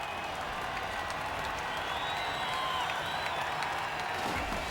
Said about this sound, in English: Lots of applause for this Spanish team here at the Red Bull Flugtag.